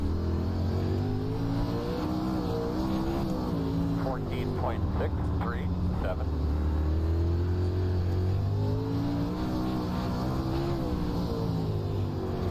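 A World of Outlaws dirt race car engine in iRacing at Lucas Oil Speedway roars loud and close in a steady drone, its pitch rising and falling with throttle through the lap, while someone talks over it.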